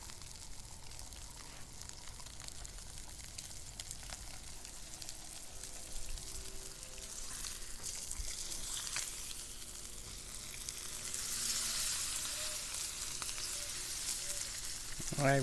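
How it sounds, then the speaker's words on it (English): A redfish collar fries face down in hot grease, a continuous moderate sizzle that swells louder toward the end, with light crackling and no talk. "now we got this redfish collar. Straight in the grease, face down,"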